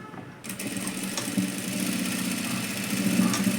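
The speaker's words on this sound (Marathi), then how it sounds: "इथे थोडंसंच पकडायचं आणि तिरकं शिवून घ्यायचं" A sewing machine stitches tucks into a blouse with a continuous close whir that starts abruptly and runs steadily at even speed, loud and alone.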